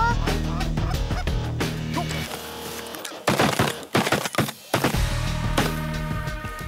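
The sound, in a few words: goose call device imitating honking geese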